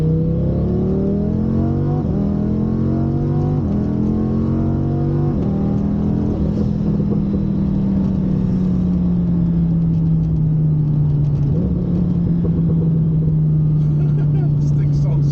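Revving 800-horsepower twin-turbo Lamborghini Huracan engine, loud and close, rising through several sharp gear-like pitch steps before settling into a steady high drone, with excited voices over it.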